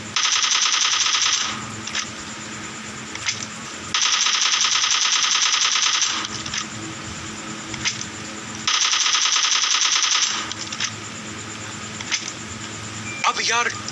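Rapid automatic gunfire in an online shooter video game, loud sustained bursts in three long volleys separated by short gaps, with a voice talking in between.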